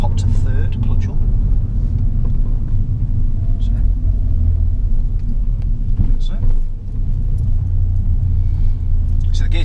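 A learner car's engine hums low and steady while shifting up to third gear on a UK country lane, the drone continuing under an instructor's talk throughout.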